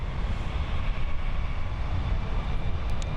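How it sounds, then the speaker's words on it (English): A Turkish Airlines Airbus A330-343 departs Frankfurt airport with a broad, steady low engine roar that holds constant throughout, heard from a distance with no voices. "next for departure, here we have an Airbus A330-343 headed to Istanbul"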